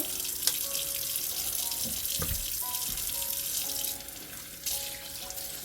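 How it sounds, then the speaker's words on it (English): Water streams steadily from a kitchen faucet as a thrifted stock pot is rinsed, a constant close hiss with small clanks and shifts in the flow partway through, no talking. "I just want to make sure it's rinsed."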